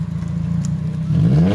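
A car engine, apparently a modified street car at an evening car meet, idles with a lumpy rumble and then is blipped, the revs rising sharply in a short, close, loud burst.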